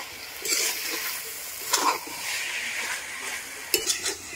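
Cabbage curry with chopped coriander leaves being stir-fried in a pan, a soft steady sizzle broken by a few sharp utensil scrapes and clinks against the pot, fairly close with no talking.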